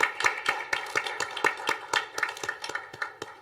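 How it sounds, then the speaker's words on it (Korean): A church congregation claps together in a steady, even rhythm, with loud, sharp, closely spaced claps at about four a second throughout. "감사와 영광의 박수 올려드립니다."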